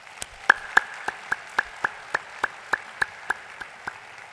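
An audience at a library conference closing ceremony in Astana claps for the volunteers in steady, evenly spaced, rhythmic beats, sharp and distinct, as if only a few hands keep time together.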